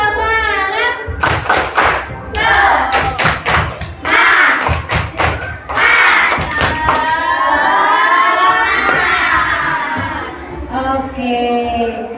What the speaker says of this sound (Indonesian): Bunda Bila mau kalian tepuk semangat dulu. Tepuk semangat.